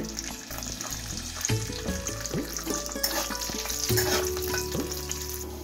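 Raisins, almonds and cashews fry in hot oil with a steady close sizzle, broken by scraping stirs of a spoon in the pan, running alone with no voices for the whole stretch.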